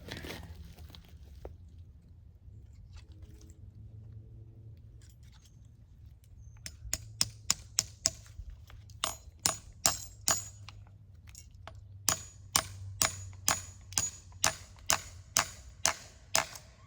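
A metal spile is hammered into a backyard maple tree in a series of sharp, ringing knocks, first spaced and then in a quicker steady rhythm, close and fairly quiet against a faint background hum.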